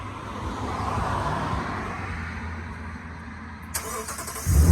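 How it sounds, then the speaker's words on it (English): A Toyota Tundra truck engine cranks and fires up by remote start near the end, a sudden low rumble rising after a few seconds of steady outdoor background hum. "Truck starts up."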